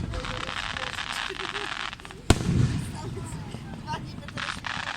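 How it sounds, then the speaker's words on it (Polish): An outdoor fireworks display over Lake George Village: a sharp bang stands out above steady crackling and rumbling, while people talk nearby. "Fireworks."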